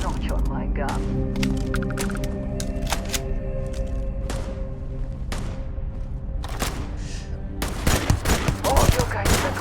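Gunfire in the sci-fi game Starfield: scattered sharp cracks and shots over constant game noise, with a denser, louder flurry near the end.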